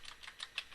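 A handful of soft, separate key taps on a computer keyboard while entering network switch configuration commands, faint and brief, with no talking.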